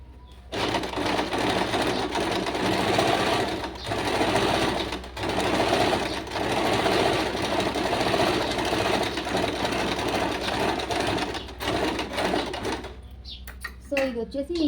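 A sewing machine stitches a small zigzag in steady, rapid bursts, pausing briefly a few times before stopping near the end, close and fairly loud.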